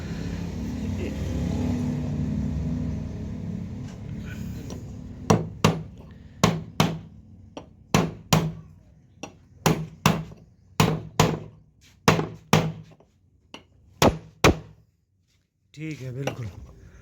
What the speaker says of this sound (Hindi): तो ये अभी हम बैरिंग ठोक रहे हैं